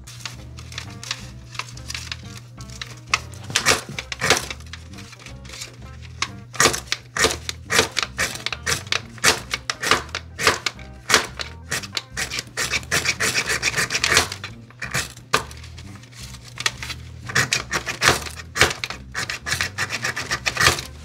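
A pencil-sharpener style tinder maker shaving a wooden branch, producing loud, close, repeated rasping and scraping strokes in quick irregular bursts with no talking.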